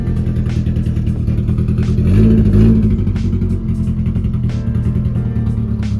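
A car fitted with a Sonar muffler and 18-inch wheels revs its engine close by, a deep continuous exhaust drone that swells into a louder rev in the middle before settling back to a steady rumble.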